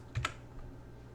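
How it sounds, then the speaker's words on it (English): Two quick clicks of a computer keyboard and mouse during a copy-and-paste shortcut in Figma, sharp and close against a quiet room. "Press Ctrl, click, Ctrl V."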